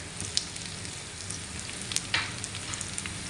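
Butter melting in a pan for chicken pasta sizzles and fries steadily, with a continuous crackle and a few sharper pops and spits, up close and with no talking.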